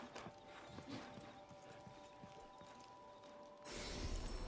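Elk moving close by in Assassin's Creed Odyssey, steady hoof clip-clop and rustling that swells louder near the end, with no talking.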